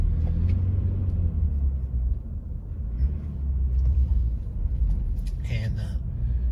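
A car rolls through a residential neighborhood of late-1990s and early-2000s houses in Davenport, Florida, heard from inside as a steady low road rumble and engine drone under close talking.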